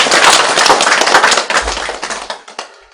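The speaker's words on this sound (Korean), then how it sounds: "박수!" Dense, loud audience applause at a Buddhist Diamond Sutra lecture, many hands clapping together, then thinning and fading out near the end.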